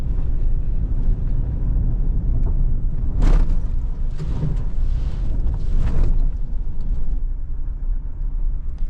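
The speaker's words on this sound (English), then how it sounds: "we hit this bump down here, this little jump, and see how it handles" A 2024 Mitsubishi Triton GLS rolls over gravel and hits a small bump, a steady low rumble with a few brief thumps and rattles near the middle, all close and continuous with no talking.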